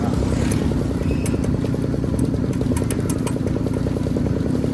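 A motorcycle engine runs loud and steady close by on a village road, with a continuous rumbling drone and rapid clattering pulses. No voices are heard.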